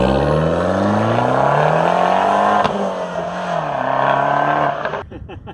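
A Fiat 500 Abarth's engine drones loud and close as it accelerates, pitch climbing steadily, dipping briefly at a shift, then rising again before cutting off near the end.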